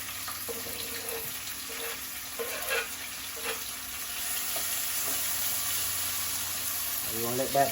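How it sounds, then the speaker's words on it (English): Chopped seasoning for Jamaican saltfish fries in a pan with a soft, steady sizzle, broken by a few scrapes and clinks of stirring, and near the end a brief rush of water. "I'm gonna go ahead and start frying up the seasoning for the saltfish"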